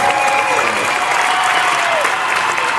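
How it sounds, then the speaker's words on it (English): An audience applauds loudly during a talk on the reparations movement, a dense, continuous wall of clapping with crowd noise and faint voices mixed in. "Clap it up."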